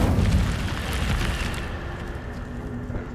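A fire spell in a wizard video game bursts with a loud whooshing boom at the start, then settles into a roaring, crackling rumble that slowly fades.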